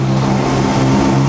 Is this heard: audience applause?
no